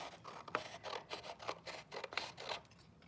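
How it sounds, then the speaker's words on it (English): Scissors snipping through paper strips, a series of soft, close cuts at a regular rhythm, faint and alone. "So I'm going to cut on this line."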